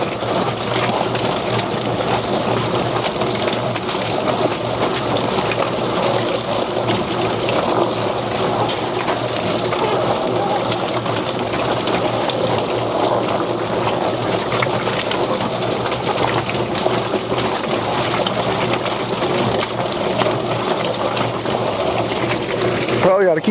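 A homestead chicken plucker spins two birds at a time while a shower head sprays water over them, giving a steady rushing, churning wash with mechanical rattling, loud and unbroken throughout.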